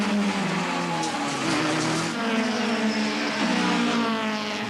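A Minolta Toyota Corolla and other touring cars race at Kyalami, their engines giving a continuous loud, close whine that shifts in pitch as they pass through corners.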